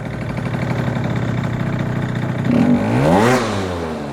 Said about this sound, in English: I'll get it down to its lowest idle. There it is, so I'll go full throttle